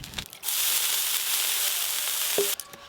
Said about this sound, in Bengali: এবার পরোটা ভাজবো।